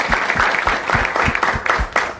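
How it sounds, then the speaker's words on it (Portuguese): Applause from a school audience of students, a short spell of clapping with distinct individual claps audible in a loose rhythm, moderately close and without talk over it. "uma salva de palmas, por favor."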